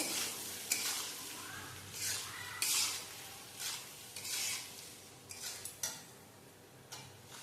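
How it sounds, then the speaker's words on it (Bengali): A spice paste with a little sugar is sautéed and stirred in a pan, the spoon scraping and clinking in repeated strokes over a soft, low sizzle, close and moderately quiet. "এরপরে মশলাটাকে ভালো করে একটুখানি কষিয়ে নেব"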